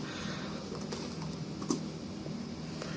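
Keys tap on a computer keyboard while a chat message is typed, a faint irregular patter of soft clicks over a steady low hum, close by and without talk.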